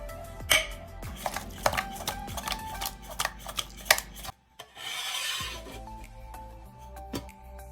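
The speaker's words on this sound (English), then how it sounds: "Step 2 is marinating the fish with the customary seasonings, that is salt and turmeric." Fish pieces are rubbed with salt and turmeric by hand, giving close, irregular scraping and squelching rubs with sharp clicks, then a short hiss and lighter handling sounds toward the end, no talking.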